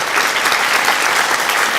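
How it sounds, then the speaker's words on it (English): Steady applause from a crowd at a Teacher of the Year awards ceremony, dense clapping throughout without a break. "Let's give him a round of applause anyway."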